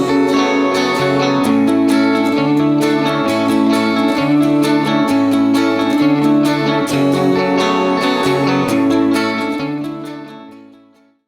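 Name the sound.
four guitar parts of a chorus mixed together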